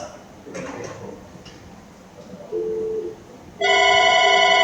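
Ringback tone from a Unify VoIP desk phone placing a call: a short electronic tone, then a steady, louder ringing tone that continues to the end after quiet room noise with faint clicks.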